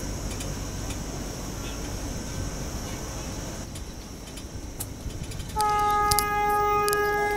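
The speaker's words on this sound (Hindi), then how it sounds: "ब्रिज पर पहुंचने के पहले ट्रेन पूरा यू टर्न ले रही है" A passenger train near Bharuch, about to cross the Narmada river bridge, rumbles steadily on the rails with a low continuous drone, then a loud sustained horn blares over it near the end.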